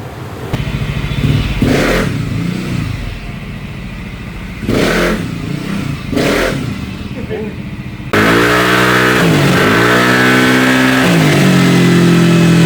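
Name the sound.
motorbike engine revving to top speed after pulley modification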